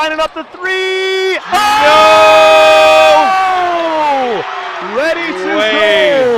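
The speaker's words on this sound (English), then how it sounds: "I don't know how much of the crowd noise you can hear, but this is pandemonium in the gym." A high school basketball gym crowd roars and cheers in loud, sustained waves, with shouts and whoops rising over a commentator's voice during a tense semifinal finish.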